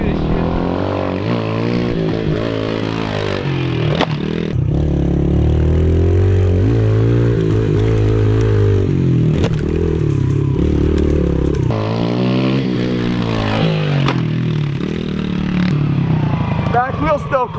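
Small pit bike revving hard on a dirt track, engine note rising and falling through gear changes nearly continuously, with riders talking loudly over it.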